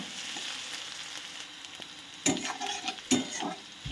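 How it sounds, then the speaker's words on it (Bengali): Sliced onion with slit green chillies fries in a pan, giving a steady sizzle broken by a few louder scrapes of stirring, with no voices. "তো পেঁয়াজটাকে ভালো করে ভেজে নিতে হবে"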